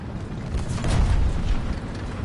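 A tank shell whooshes overhead in War Thunder, a short rushing burst swelling and fading over two seconds with a low rumble.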